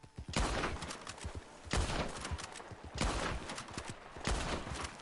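Gunshots at a ram in Red Dead Redemption 2 crack out in four evenly spaced loud blasts, each followed by a short echoing tail, with quiet game ambience between.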